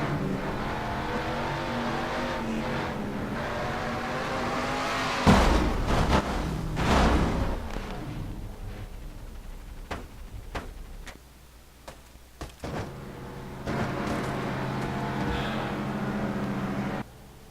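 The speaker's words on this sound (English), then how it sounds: "But let's go back to the race crash between Dallas McIntosh and Luis Hernandez" Onboard replay from a Castrol GTX Cup stock-car race at Suzuka in a racing video game: a steady, droning engine note is broken midway by a loud crash with scattered impacts, then the engine drone returns.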